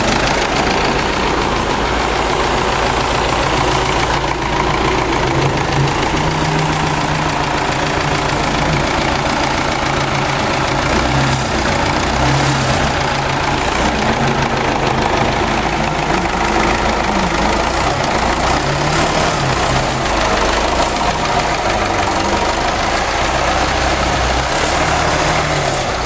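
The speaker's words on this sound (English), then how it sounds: "That's a good tractor, and it's really working hard." A tractor stuck in mud roars continuously under heavy load, its engine labouring with a deep, rough, knocking drone that stays loud and close for the whole stretch.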